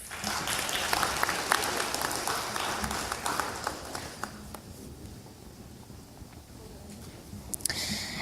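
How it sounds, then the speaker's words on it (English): Audience applause at a ceremony distributing certificates of comfort, scattered clapping from a modest crowd, strongest at first and then thinning to a sparse patter with a few louder claps near the end. "Let's give him a round of applause."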